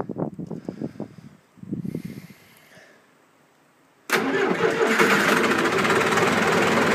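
A John Deere 2555 tractor cold-starts on a chilly day: a few rhythmic cranking pulses, a short pause and a second crank, then the diesel catches and settles into a loud, steady, rough idle close by.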